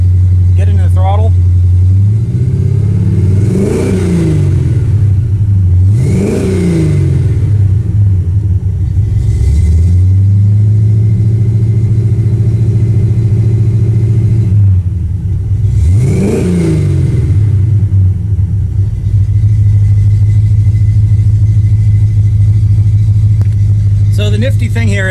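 A 1979 AMC AMX V8 on a dyno revs repeatedly as the throttle opens, climbing in rapid surges, dropping back to a loud steady idle rumble between blips, with someone talking over it throughout.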